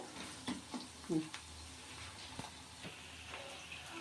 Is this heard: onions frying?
yes